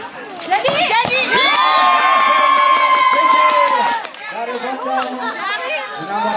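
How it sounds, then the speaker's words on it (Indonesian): Supporters of both teams at a local football match in the Darmajaya Cup quarter-final shout and cheer loudly, a dense crowd roar with high excited voices that swells and then drops off near the end. "Teriakan semakin kencang sekali."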